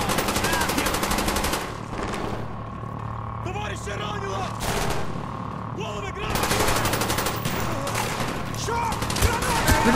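Heavy automatic gunfire in Call of Duty: Black Ops, dense rapid bursts of rifle and machine-gun fire close by with brief lulls, while a voice talks over the shooting.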